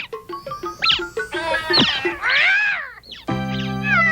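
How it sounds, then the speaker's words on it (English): A cartoon cat meows as a kitten stuck in a tree, with several high plaintive mews and a drawn-out wavering cry mixed with squeaky cartoon sound effects, close and clear. "Toxie, my kitty got stuck in the tree"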